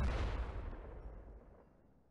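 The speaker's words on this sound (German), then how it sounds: "Jetzt aber mit gezieltem Schuss" A single heavy gunshot in the video game XCOM booms and then rolls away into a long, fading echo.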